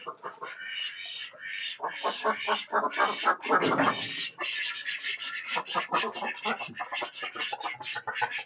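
Farm ducks raised at a Kerala homestead quack noisily and continuously, a dense chorus of overlapping calls heard close by throughout.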